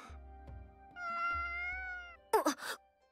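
A cat meows twice in the Sword Art Online game, a drawn-out tonal mew followed by short sharper bursts, close and clear with no talk.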